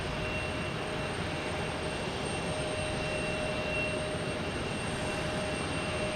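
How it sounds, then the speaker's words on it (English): A Delta Airbus A321neo jet arriving at Boston Logan Airport, a steady continuous broadband roar with faint tonal engine whine, moderately loud and unbroken throughout with no talk. "We have an A321neo Delta coming in from Atlanta."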